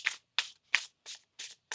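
A tarot deck shuffled by hand in six quick, crisp riffling bursts spaced evenly apart, close and fairly quiet with silence between.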